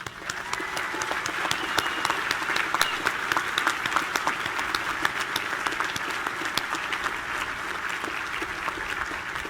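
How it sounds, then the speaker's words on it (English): Sustained applause fills the hall at a U.S. Naval War College commencement, a steady roar of many hands clapping from a large audience, even in level for nearly ten seconds. "I want you to give them a hand of applause"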